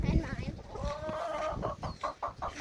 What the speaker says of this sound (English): These are my chickens, mostly.